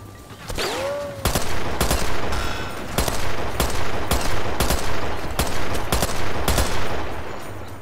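Machine gun in the VR shooter Sniper Elite VR fires in loud, sharp bursts of rapid shots, repeated again and again over a steady background hum, with a brief rising whine near the start.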